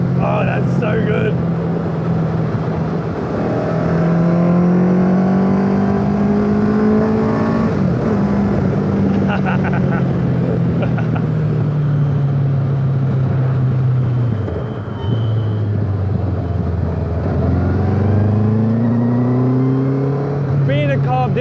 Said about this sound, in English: that sound of that little carved engine